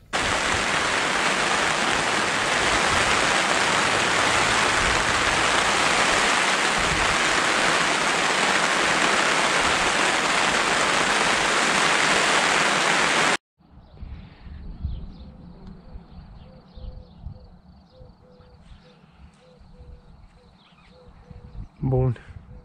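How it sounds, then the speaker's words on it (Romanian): Heavy rain pours down loudly and steadily over a fish farm pond at Aurel Vlaicu, a dense broadband roar that stops abruptly midway and gives way to quieter outdoor ambience with scattered drips. "i-a dat și aici o ploaie sănătoasă"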